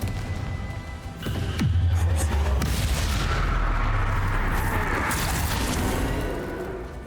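A Confringo fire-blast spell in Hogwarts Legacy lets out a swift whoosh, then a loud, booming blast that rumbles on for several seconds before fading.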